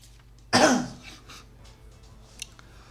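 A single sharp cough bursts out close to the microphone, followed by a faint trailing breath and a small throat noise.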